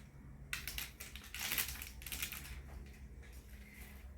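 A dull knife sawing into soft, gooey rice crispy treats, a run of quiet close crunches and crackles lasting a few seconds, with no one speaking.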